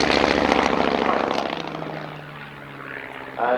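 Vintage propeller aeroplane at an evening air display, of a type flown by the Royal Air Force Central Flying School; a loud, steady droning engine passes close by, fading gradually as it moves away.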